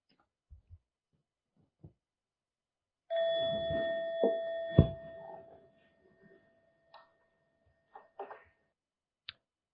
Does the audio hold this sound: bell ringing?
yes